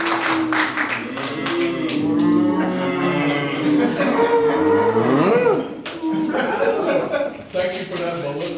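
An audience at a Winter Park Toastmasters Tabletopics meeting moos like cows in welcome, many overlapping voices imitating long, drawn-out moos with scattered chuckles mixed in.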